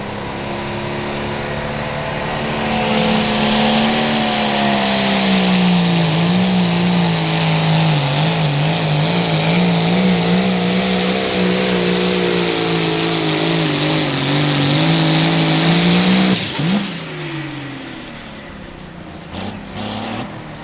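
An 8,500 lb limited pro stock pulling tractor, an old Iron L, roars with a loud, sustained engine drone that wavers in pitch during a pull at a tractor pulling event in Mound City, Missouri, then cuts off sharply near the end.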